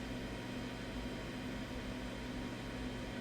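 A 3D printer builds a miniature library, giving a steady, continuous mechanical hum and whir at moderate level with no pauses or talk.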